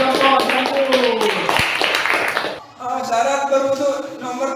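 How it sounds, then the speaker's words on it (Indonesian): A classroom group of students claps together in an Islamic school lesson, mixed with chanting or cheering voices. The clapping comes in a lively burst, pauses briefly and then resumes. "tepuk tangan buat kelompok jambur"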